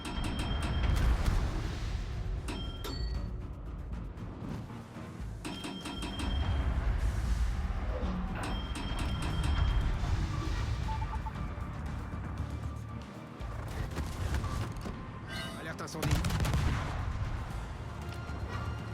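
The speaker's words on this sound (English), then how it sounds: "Tirpitz is firing." The German battleship Tirpitz firing its guns in World of Warships, with several heavy booming salvos spaced a few seconds apart over a continuous rumbling battle backdrop, loud and fairly close.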